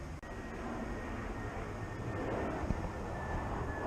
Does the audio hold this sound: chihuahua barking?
no